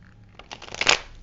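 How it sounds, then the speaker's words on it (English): Tarot card decks riffled and shuffled by hand, a short rustling flurry that builds to a crisp burst of snapping cards, close and alone. "So I've already pre-shuffled all the decks, but I'm going to continue to do so a little more."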